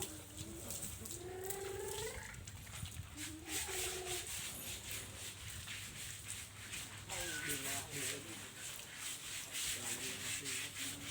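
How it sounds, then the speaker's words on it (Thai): Someone scrubs an elephant's skin during a morning bath, a steady rough rubbing texture running throughout, with birds cooing and chirping in the background. "คุณพ่อขัดผิวให้"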